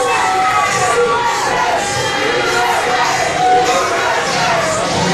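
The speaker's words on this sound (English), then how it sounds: "and the crowd loves it as well." A wrestling match crowd cheers loudly and continuously, a dense roar of shouts and whoops from a large audience with no clear pauses.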